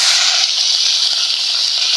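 Fish sizzle in hot oil in a wok, a loud, dense, steady hiss close by with no voices.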